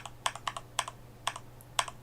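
Quick, crisp keystrokes on a computer keyboard, about eight distinct clicks in short irregular bursts over a faint steady hum, fairly close and quiet, with no talking.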